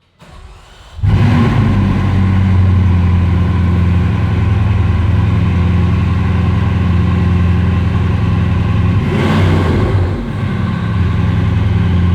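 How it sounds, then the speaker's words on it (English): Bugatti Chiron Pur Sport starting up: a sharp ignition burst settles into a loud, steady, deep-throated idle that runs throughout, with a brief blip of revs near the end. "I can give you the next best thing, which is to start it up and let you hear how she sounds."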